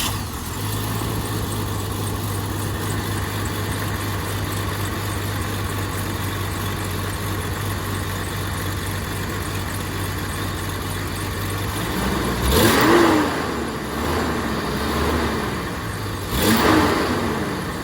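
Jeep XJ with a cylinder misfire idles in a steady, fairly loud rumble, then its engine revs in two short bursts near the end.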